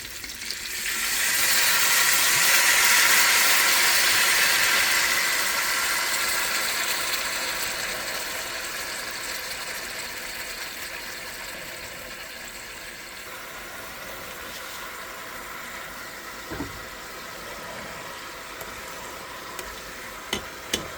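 Beef short ribs sizzle loudly in a hot pan as Merlot red wine is poured in to deglaze, a sudden hissing surge that peaks within seconds and then slowly fades to a steady crackling simmer with occasional clinks.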